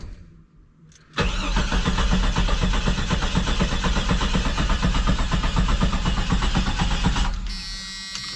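A Jeep Comanche engine cranks for about six seconds without catching, a loud, rapid rhythmic churning of the starter that stops abruptly, leaving a quieter hiss.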